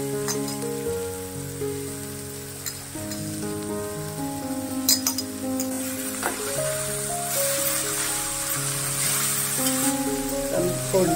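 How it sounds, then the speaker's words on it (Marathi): Chopped cabbage and peas fry in an Indian tempering, giving a steady, close sizzle with occasional stirring scrapes, layered under background music. "तर 2 मिनिटं परतल्यावर कोबी घालायचं।"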